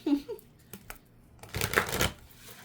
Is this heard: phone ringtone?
no